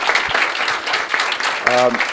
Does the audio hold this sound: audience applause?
yes